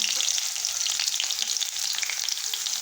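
Tempering spices hit hot oil for a green tomato curry, a loud, close, crackling sizzle with bright popping that continues evenly throughout.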